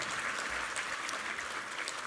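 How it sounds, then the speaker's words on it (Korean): A church congregation applauds during a Sunday worship service in Korea, steady dense clapping filling the room with no pauses for the full stretch. "우리 하나님께 감사와 영광의 박수 올려드리겠습니다"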